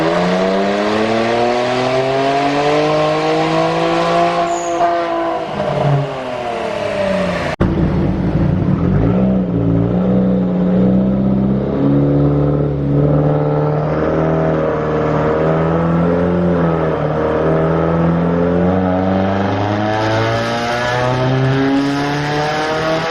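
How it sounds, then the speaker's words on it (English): A 2017 Subaru Forester XT's turbocharged FA20DIT engine with a CVT runs dyno pulls, loud and continuous, its engine tone climbing and falling through sweeping revs with a brief drop near the middle, and no talk. "We're about to get some dyno pulls in,"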